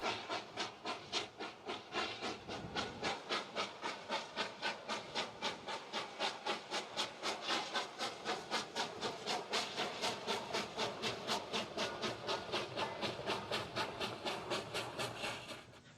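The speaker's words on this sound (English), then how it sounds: "The locomotive rounds this broad sweeping curve as it enters an area of the line known as Keystone." A locomotive rounds a broad sweeping curve on a Nevada rail line, a steady rapid rhythmic clatter of wheels over rail joints with grinding, rubbing tones, fairly close and continuous throughout without talk.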